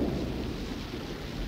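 A theatrical stage sound effect of rain and thunder as a storm dies down: a steady, close, broadband rushing of rain over a low rumbling roll, with no voices.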